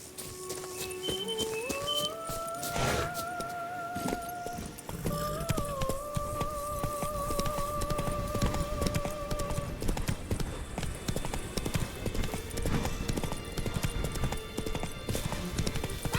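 Roach the horse in The Witcher 3 video game, steady muffled hoofbeats running throughout under game music with sustained melodic tones, a continuous dense rumble.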